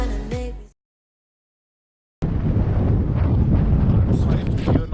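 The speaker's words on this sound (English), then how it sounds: "It's very windy around here." Strong wind buffets the microphone on a mountain peak, a loud continuous rumbling roar that bursts in after a brief voice and a moment of silence.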